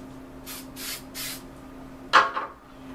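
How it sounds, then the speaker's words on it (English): Spray adhesive for mounting paper towels for airbrush practice hisses out of an aerosol can in three short bursts, followed by a louder knock or handling clatter, all close and quiet. "we start off by putting our paper towels up on there with some spray adhesive"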